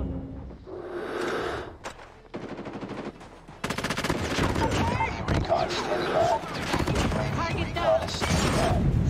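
QXR weapon in COD Mobile firing in rapid automatic bursts, loud and close, with dense crackling volleys that run almost continuously after a short pause near the start, with no talk over them.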